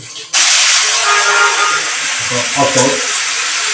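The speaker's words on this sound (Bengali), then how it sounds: "পানি ছাড়লাম" Water bursts on abruptly from a newly fitted shower panel, a loud close continuous hiss of spray that holds steady to the end, with brief talk over it.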